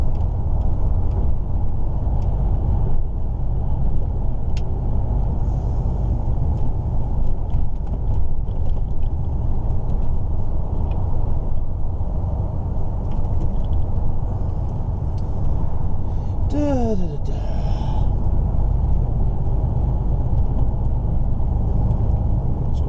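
A truck towing a trailer rolls along a road, its steady low engine and tyre rumble continuous throughout, with a short hiss of air brakes partway through.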